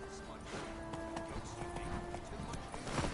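Roach the horse gallops with rapid, rhythmic hoofbeats in The Witcher 3, quiet and steady under faint game ambience and a voice.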